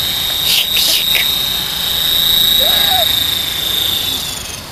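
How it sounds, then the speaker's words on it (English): A running helicopter engine gives a loud, steady whine with a sustained high turbine tone over broad rumbling noise, close by, with brief faint sounds on top. "let's go see Daddy's helicopter"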